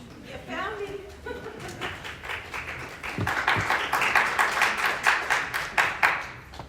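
Applause breaks out among the public at a city council meeting, a scattered patter of claps that grows denser and louder toward the end, with some talking mixed in underneath.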